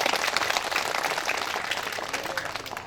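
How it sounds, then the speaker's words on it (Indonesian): Audience applause at a Sundanese-language religious talk, brisk dense clapping from a crowd that holds steady and then gradually thins out. "Tepuk tangan dulu untuk kita semua."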